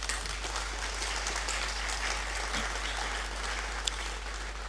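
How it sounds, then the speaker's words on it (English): Steady, dense applause fills a large graduation hall at the University of Ghana as international students stand to be acknowledged, a broad continuous wash of many hands clapping without pause throughout. "So applause."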